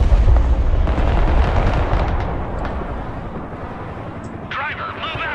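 Bombs exploding in the video game Broken Arrow make deep, rolling booms and a heavy low rumble, loud and sustained, with a voice talking over them.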